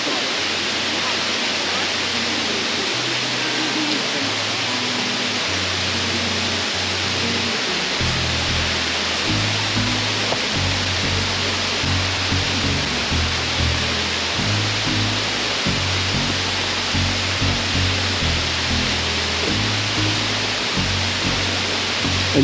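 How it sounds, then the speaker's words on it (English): Steady, broad roar of a large waterfall at Plitvice Lakes National Park fills the scene, constant and loud, with faint low rumbling tones shifting underneath. "We have arrived at the large waterfall."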